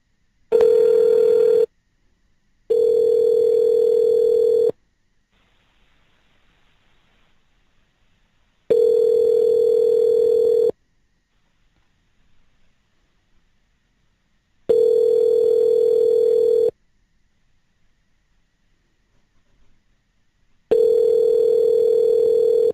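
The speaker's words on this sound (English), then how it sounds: "Let's give him a call." Telephone ringback tone while phoning a guest on air: five long steady tones with silent gaps between them, loud and clean with no talk over them.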